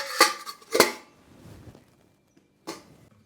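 A lid goes onto a container of green chillies soaking in buttermilk, giving two quick metallic clinks close together, then a fainter rattle and one more clink after a pause, close and quiet.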